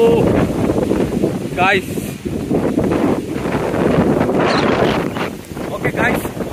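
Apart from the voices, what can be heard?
strong wind during a storm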